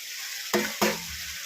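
Fish pieces drop into fried, cooked-down spice masala in a hot pan, setting off two sharp, loud bursts of sizzling in quick succession before settling into a quieter steady hiss nearby.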